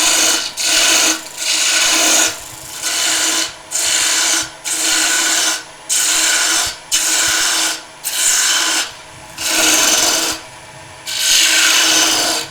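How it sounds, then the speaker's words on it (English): Rhythmic rasping scrape of a spindle gouge cutting a cove into a wooden table lamp on a lathe, about ten loud, close passes each lasting a second or so, separated by short pauses. "I'm going to go with a spindle gouge to do my cove"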